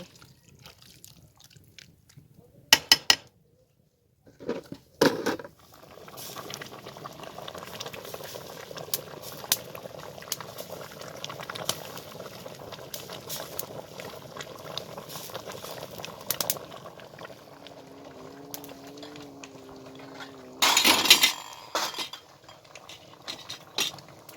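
A pot of sauce simmers with a soft, steady bubbling, broken by occasional sharp clinks of metal and glass jars and brief clattering sounds.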